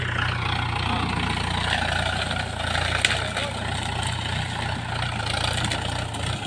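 A tractor engine runs at a steady, low rumble in a field, carrying a load with no pipe attached, with a brief click midway and a voice speaking under the drone.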